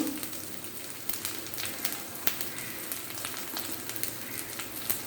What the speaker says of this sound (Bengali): মশলাকে ভালো করে নেড়ে নেব।